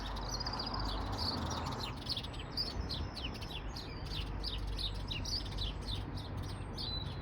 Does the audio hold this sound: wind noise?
no